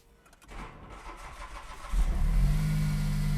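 A Smart Fortwo engine cranks roughly, then catches and roars loudly to life, settling into a steady, rumbling idle nearby.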